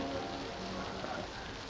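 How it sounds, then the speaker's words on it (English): Steady rain falling outdoors, a soft continuous patter and hiss with no distinct drops standing out, fairly quiet and brief. "it's raining."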